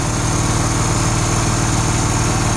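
An 8 horsepower gas engine runs at 2,000 RPM, driving a Delco 10si alternator spinning at 4,000 RPM on a cold morning, giving a loud, steady, close drone with constant throbbing firing pulses and no voices.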